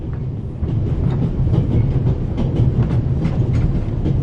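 Steady, loud, low rumble of a train running on rails, with faint rhythmic clicks from the wheels and a slight swell after the first half second.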